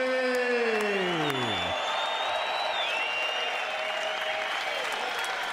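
An arena crowd at the Centre Bell applauds boxer Kevin Bizier, a dense continuous wash of clapping and cheering heard alongside fading music tones at the start.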